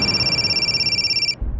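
An electronic telephone ringtone trills steadily with a bright, high warble, then cuts off abruptly, leaving a low background rumble.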